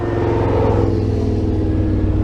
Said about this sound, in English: it has the performance exhaust on it. Dual mode, has a nice burble to it